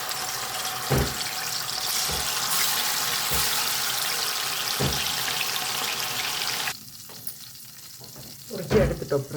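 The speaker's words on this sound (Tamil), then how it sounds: "இப்போ பொரிக்க போகிறோம் சிக்கனை." Chicken sizzles and crackles loudly in hot oil with a few dull knocks, then the frying abruptly drops away, leaving quieter clatter at the end.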